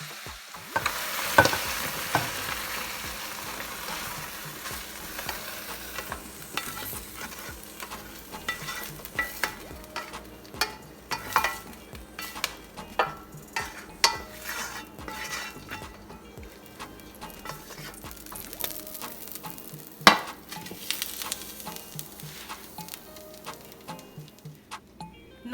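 Vegetables sautéing in coconut oil in a pot on a medium stove give a steady, close sizzle broken by scattered clicks and scrapes of stirring, with no voices.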